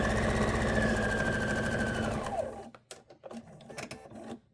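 A domestic sewing machine quilting a placemat with a long stitch runs steadily and loudly, then slows and stops partway through, leaving a few scattered clicks and handling knocks.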